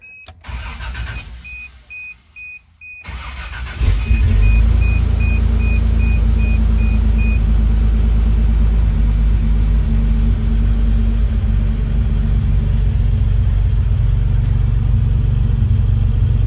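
A Toyota FJ62 Land Cruiser engine cranks and fires after a few quiet seconds and a warning chime, then settles into a loud, steady idle with a low rumbling drone.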